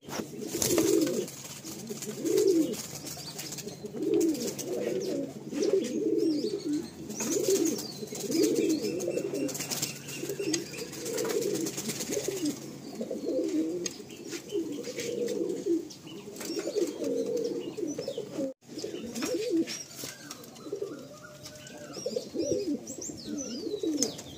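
Andhra pigeons on a rooftop loft coo in repeated soft, throaty rolls, several birds close by and overlapping steadily, with faint chirps and a brief flutter in the background.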